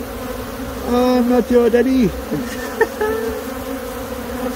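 Bees swarm around a person during removal of a colony from a tree, one buzzing loudly and close with rising and falling pitch as it circles, while someone speaks briefly amid the droning.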